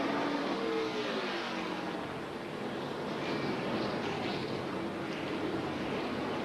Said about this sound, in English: Listen to the fans roar as the cars come by the grandstand for the first time.